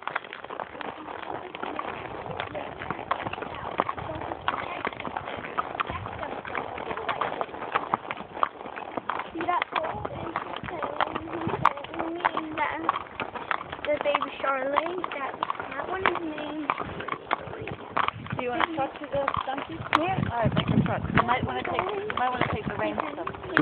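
Donkey hooves clip-clopping at a walking pace, a rapid, uneven patter of hoof taps heard close by under frequent talking.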